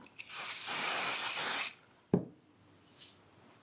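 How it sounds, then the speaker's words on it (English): Basting spray is sprayed from a can onto fabric pieces of a small drink coaster, one steady close hiss lasting about a second and a half, followed by a sharp knock and faint rustling. "This basting spray can be very sticky, so that's why we have our surface protected"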